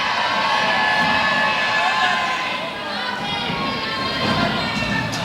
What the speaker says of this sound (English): the crowd is not buying it, and they're making as much noise as they can